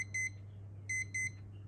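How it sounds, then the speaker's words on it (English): A Lego Knights Kingdom analogue clock's alarm going off: three short, high electronic beeps in a clear rhythm, quiet and close, over a steady low hum. "when the alarm button is on and the hands click round to the alarm time, the alarm goes off."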